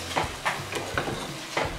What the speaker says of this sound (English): just give that a slight mix